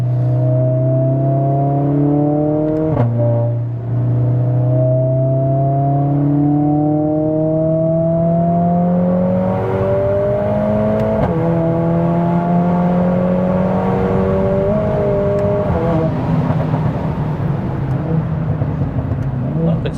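A 500 BHP Mercedes A45S AMG on a wet track day, its engine note rising through the gears in repeated climbing revs with brief dips at each shift, loud and close from the cabin, with occasional talk over it.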